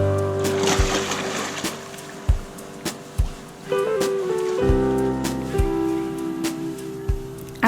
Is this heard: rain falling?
yes